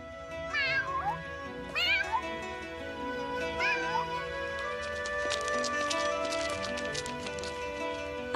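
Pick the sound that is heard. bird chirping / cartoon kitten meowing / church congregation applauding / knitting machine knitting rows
cartoon kitten meowing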